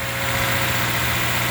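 A 2014 Subaru Outback's 2.5-litre boxer engine idles steadily and close by, a continuous low hum with no talk over it.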